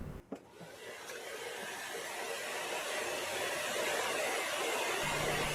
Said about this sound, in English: I grab a hair dryer, put it on medium temperature to heat the PPF a little bit